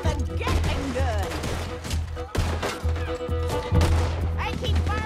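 Gunfire in Red Dead Redemption 2, with repeated shots crackling in bursts across a busy mix of music and game sound, steady and fairly loud throughout.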